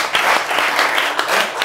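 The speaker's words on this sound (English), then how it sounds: "So clap for yourself." A group of students claps together in a classroom, with dense, close, fast hand claps filling the short stretch and no one speaking over it.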